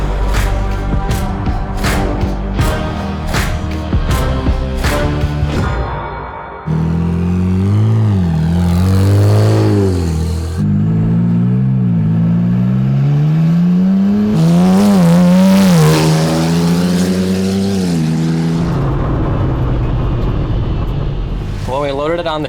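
A Hornet car driven on a street in Michigan, its engine revving and droning loudly with rising and falling pitch through several accelerations, close by, with sharp transient hits early on.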